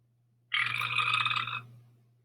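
A long, rough belch from a noisy, burpy storybook monster, one sustained rasping burst lasting about a second, close and loud over a steady low hum, then fading out.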